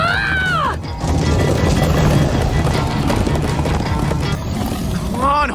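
Horses gallop in the Minecraft Story Mode video game, a loud, continuous clip-clop of hooves with whinnies at the start and end while characters shout over the running.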